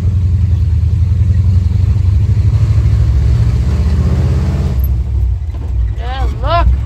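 Carbureted Ford F100 pickup engine idling roughly and misfiring, a loud uneven low rumble up close, with someone speaking over it toward the end.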